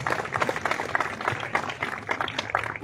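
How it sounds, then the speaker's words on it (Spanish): An audience breaks into applause for a town president at a public event in Rioverde, giving a steady, moderately loud patter of clapping throughout. "Un fuerte aplauso para el presidente Arnulfo Viola Román"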